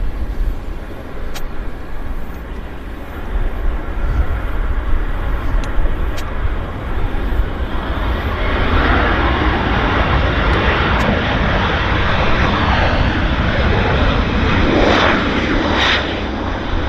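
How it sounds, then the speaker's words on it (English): A CRJ regional jet lands on runway 26 right at Vancouver Airport, its engine roar building from a distant rumble to a louder, broad rushing sound that holds steady toward the end. "the CRJ is now on approach, short finals"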